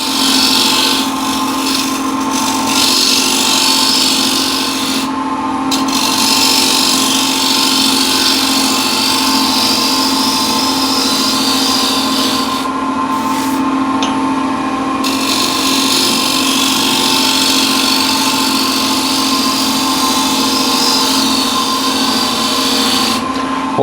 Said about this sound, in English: I'm scraping that the scraper is scraping on actually on the center height of the ball or slightly above that